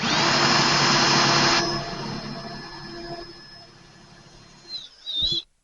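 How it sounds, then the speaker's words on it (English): A router cutting out a pickup cavity in a guitar body runs loud and steady, a high-pitched motor whine with a broadband cutting roar that eases down after the first second and a half, then a brief final rise before stopping. "I'm just going to route out the whole cavity there."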